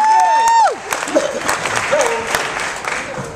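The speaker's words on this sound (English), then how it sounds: "Big round of applause." Applause from a crowd at a Kwanzaa gathering marking Umoja, the first day, starts after a sustained sung or called note and carries on with a voice over it.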